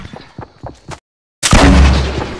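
Explosions and bombing in the Fortnite video game: a few quick thumps, a brief silence, then a loud heavy blast that rumbles and roars on to the end.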